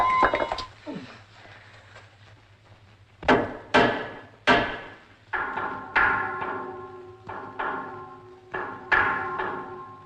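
A diver raps on the outside of a sunken submarine's hull in a 1950 film, producing a series of sharp metallic knocks in irregular groups, each ringing briefly and fairly loud against a low steady hum.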